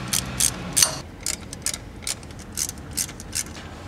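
A hand ratchet tightens bolts on a Mitsubishi 2.4L SOHC engine during timing belt and water pump work, a series of close, crisp clicking strokes in short rhythmic runs with brief pauses.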